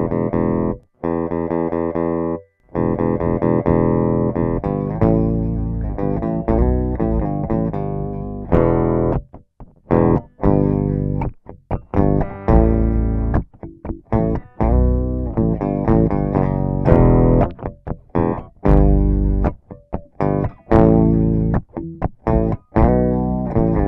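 Electric guitar run through a Behringer Super Octaver SO400 octave pedal plays a series of notes and chords with a thick doubled low tone, with short pauses between phrases.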